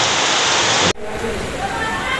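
Heavy rain pours as a loud, dense hiss that cuts off abruptly about a second in, leaving softer rain noise and faint background sound afterward.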